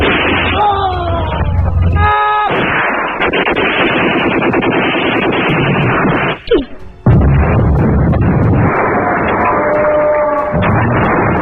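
A battle scene from a war film about Indonesian independence fighters: dense bursts of gunfire and explosions roar loud and continuous, with a brief lull midway, and voices are heard among the din.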